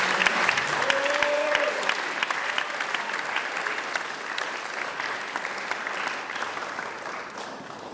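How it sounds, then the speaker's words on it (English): At a special recognition ceremony at the CSF Knowlton campus, an audience claps steadily and warmly. The applause holds for several seconds from a moderately distant crowd and tapers off slightly at the end. "let's give her a round of applause."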